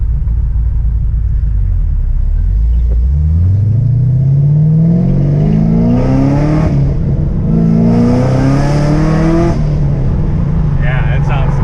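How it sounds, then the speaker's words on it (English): A Chevrolet Camaro ZL1 V8 fitted with an X-pipe exhaust idles with a deep rumble, then revs hard twice, its pitch climbing in smooth sweeps, loud and close, with speech over it. "Sounds like it's supposed to sound like a modern sports car."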